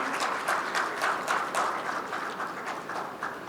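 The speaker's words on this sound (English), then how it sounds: "let's give a big round of applause to our panelists" Audience applause for the panelists at a pharma supply chain conference, dense sustained clapping from a crowd that swells in small waves and stays loud throughout, with no voice over it.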